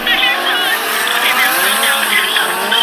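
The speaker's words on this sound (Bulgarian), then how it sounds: "Скърцащи гуми." Car tires squeal sharply and continuously in a loud, high screech lasting throughout, as from abrupt acceleration or hard turning on a city street.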